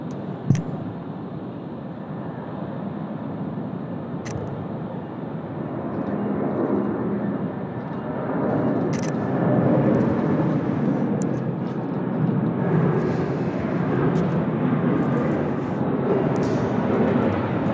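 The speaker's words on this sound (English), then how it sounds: "Hong Kong Airlines about to roll." Hong Kong Airlines jet taking off at Sydney Airport, a broad steady engine roar that swells gradually as the plane rolls, heard from a distance with no talk over it.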